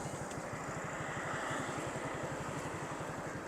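Motorbike engine idling near a dam, a steady low rhythmic putter that stays even and moderately close for the whole stretch, with no talk over it.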